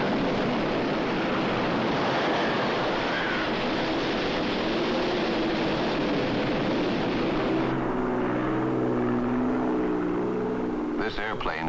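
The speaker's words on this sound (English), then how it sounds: "This airplane is heading toward a hurricane." A steady roaring drone of a propeller airplane engine in flight fills the air, with a narrator's voice speaking over it toward the end.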